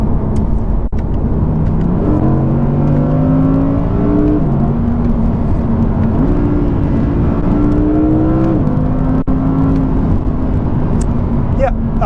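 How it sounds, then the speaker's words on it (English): A 2019 Audi R8 V10 engine in dynamic mode revs loudly and up close, its sonorous tone rising and dropping through several sustained swells across the whole stretch. "I can safely say it's still the sonorous old V10 that we know and love."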